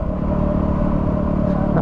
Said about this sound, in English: I'm gonna get passed by a police officer, I reckon. He's on a cop bike